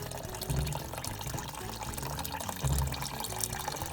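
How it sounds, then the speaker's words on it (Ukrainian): Water pours steadily into a pot of browned meat for soup, cooked in a vehicle multicooker, a continuous splashing gush with a couple of louder surges, close by and uninterrupted by talk. "заливаємо то все діло водою"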